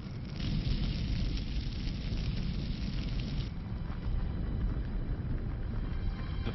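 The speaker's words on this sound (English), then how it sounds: "Lightning ignites the forest." A forest fire set by lightning on an alien planet roars as a loud, continuous crackling rumble with no pauses, slightly rougher in the first half.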